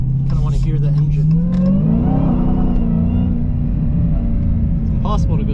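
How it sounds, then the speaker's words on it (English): A Go Mango Dodge Challenger Hellcat Redeye's supercharged engine revs loud and close from inside the cabin, a steady rumbling drone climbing in pitch, with a voice talking over it. "Kind of want to hear the engine."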